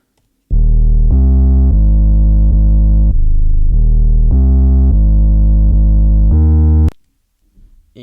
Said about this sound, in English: for the 808 during the verse, it's a similar pattern but just a simpler version